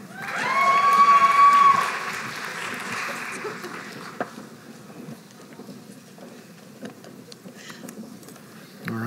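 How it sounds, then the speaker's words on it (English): Applause from a crowd at a spring college graduation ceremony swells loudly at the start, then fades to softer scattered clapping and murmuring with occasional sharp claps. "this is bound to be a boisterous applause"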